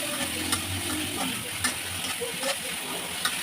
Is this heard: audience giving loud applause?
no